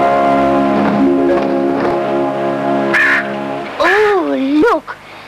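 Large seabird, an albatross, giving harsh wavering honking calls that rise and fall in pitch, near and loud, over a steady background with people talking.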